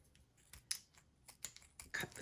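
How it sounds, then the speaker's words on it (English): Scissors snipping through a cloth drawstring cord while making a fabric storage bag, a few quiet, sharp clicks and snips spaced unevenly, close by with no talking. "I'm just going to cut the cord."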